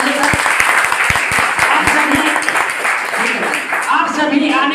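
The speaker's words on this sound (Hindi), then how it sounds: "एक बार अपने लिए जोरदार ताली बजाइए।" A crowd at an RCM business meeting claps loudly in a dense, sustained burst of applause, with voices and cheering mixed in.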